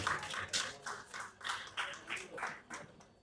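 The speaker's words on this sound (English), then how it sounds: "I thought you would, clap for me." Scattered clapping from an audience at an autism inclusion event in Nigeria, a dozen or so distinct claps in an uneven rhythm, fairly faint and sparse rather than a full ovation.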